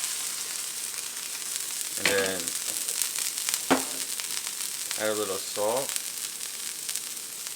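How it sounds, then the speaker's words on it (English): A smash burger patty sizzles on a hot griddle, giving a steady bright hiss throughout while a person speaks briefly over it. "you want to hear the sizzle when you throw it on"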